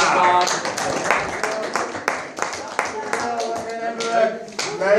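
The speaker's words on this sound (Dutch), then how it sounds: "Wow, dat vind ik een applaus" Lively clapping from a crowd with voices talking and calling out over it, the claps quick and uneven.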